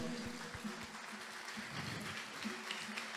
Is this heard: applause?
yes